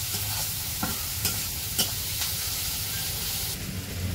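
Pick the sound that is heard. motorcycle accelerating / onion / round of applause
onion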